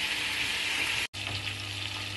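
Chicken browning in a pan for Iraqi maqluba, a steady loud sizzle and crackle of frying that cuts out for an instant midway, then carries on with a low hum underneath.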